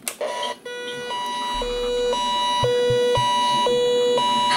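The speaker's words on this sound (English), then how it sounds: "when I turn on the siren" An electronic siren from a General Electric 7-4845A radio alternates between two pitches in a steady hi-lo pattern, loud and close, with a few low thumps underneath.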